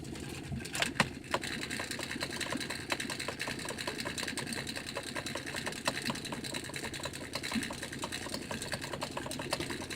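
A kicker outboard motor runs steadily on a fishing boat while trolling for walleye, a continuous buzzing drone with faint clicks and no talk over it.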